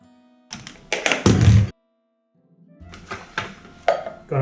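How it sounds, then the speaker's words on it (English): A cold process goat milk soap mold gets banged down on a surface to knock out air bubbles, giving a cluster of sharp close taps and thuds, a short pause, then another series of firm knocks. "let me bang out the air bubbles"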